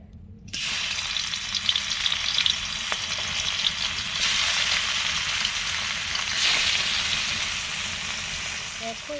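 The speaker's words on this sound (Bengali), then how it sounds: "দিয়ে একে একে মাছগুলো ভেজে নেব।" Fish sizzling in hot mustard oil in a kadai over a clay stove, a steady close crackling hiss that begins abruptly and carries on with little change, brief louder pops along the way.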